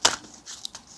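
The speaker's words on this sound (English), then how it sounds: "I'm going to shuffle and pray." A deck of cards shuffled for a psychic reading, giving a sharp riffle burst followed by a few softer flicks and slides, close by and alone in about a second.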